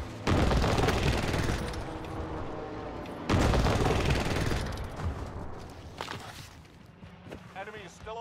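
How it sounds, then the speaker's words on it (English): Airstrike explosions and gunfire fill a Call of Duty Warzone match: two heavy booming blasts arrive a few seconds apart, each followed by rumbling and scattered shots, with game radio voices speaking over the noise. "Here's the target for airstrike. This is Phoenix 3. Strike inbound."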